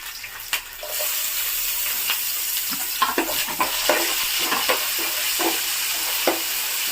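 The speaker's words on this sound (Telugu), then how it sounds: "టమాటా ముక్కలు కూడా వేగేంత వరకు వేయించుకుంటున్నాను" Chopped tomato pieces fry in a pan under a loud, continuous sizzle, with stirring strokes scraping and clattering unevenly throughout.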